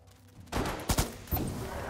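A burst of gunfire from an entire squad in the post-apocalyptic game Wasteland 2, a loud volley of several overlapping shots with a second blast following a moment later.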